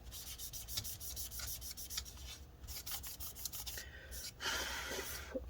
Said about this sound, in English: get more rubbing alcohol in there and wipe it off one more time